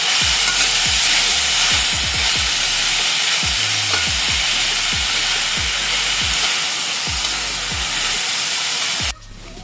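Onion, ginger and garlic roasting in a pan while mutton is prepared, a loud broad sizzle with repeated spatula knocks and scrapes, close by, cutting off abruptly near the end.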